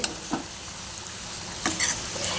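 Potato and shrimp masala stirred in a pan, with a few spatula scrapes and knocks over a soft steady sizzle, close and brief.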